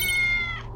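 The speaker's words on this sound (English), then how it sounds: "Oh, sorry, that was my cat." A cat gives a single clear, close meow that rises and then trails off quickly.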